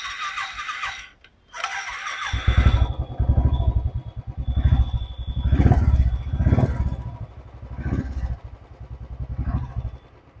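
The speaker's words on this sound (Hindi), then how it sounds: "आवाज़ सुनो, आवाज़ ज़्यादा लाउड नहीं है, बिल्कुल थम है, जो बुलेट का होता है ना थम" A Royal Enfield Bullet motorcycle modified in Harley-Davidson style starts up after a brief mechanical clatter, then settles into a low, steady thumping idle with swelling exhaust pulses, close and fairly loud, with no talk over it.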